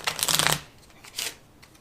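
A deck of Roswell 51 game cards is riffle-shuffled up close, a loud crisp burst of flapping cards followed by a shorter, quieter second riffle.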